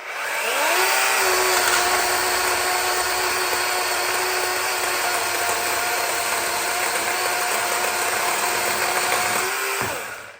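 A DeWalt 12-inch chainsaw cutting wood revs up and runs at a steady, loud buzzing roar for about ten seconds before cutting off sharply.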